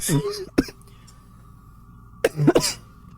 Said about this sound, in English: You're really gonna start coughing now, huh?